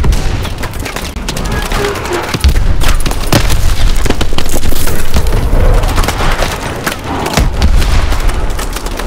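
Gunfire and explosions crackle through a Call of Duty: Advanced Warfare battle, with dense rapid shots and heavy booms piling up loudly and continuously, close and relentless.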